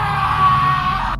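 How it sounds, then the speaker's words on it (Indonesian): A man screams at full force, a loud, strained yell that holds steady for over a second before breaking off sharply. "Bian teriak sekencang-kencangnya."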